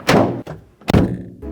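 A car door swings shut twice with solid, close thunks, the second louder than the first, and a short trailing rattle follows; the setting is a home garage where the door is being fitted with sound and vibration insulation.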